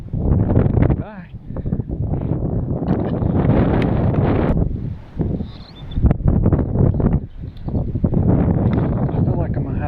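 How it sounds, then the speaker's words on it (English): Gusty wind buffets the microphone on the bank of a small pond during bass fishing, loud and roaring with surges and brief lulls, while a voice speaks over it. "I feel like I'm having to judge this wind."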